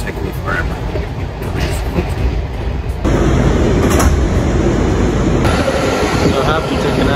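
Amtrak or Metro train running through Washington DC, a loud steady rumble of wheels and car noise that grows heavier partway through, with a voice talking over it.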